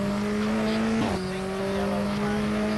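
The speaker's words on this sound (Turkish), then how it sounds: "Volvo sürüyoruz" A Volvo 240 Turbo race car in a racing video game holds a steady, buzzing engine drone with a brief gear change partway through, continuous and alone.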